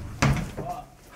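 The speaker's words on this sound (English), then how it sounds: "It's like a fridge door." A heavy door thuds shut like a fridge door inside an anechoic test facility, one dull muffled close followed by a short low settling sound. It is near and moderately loud against quiet room tone.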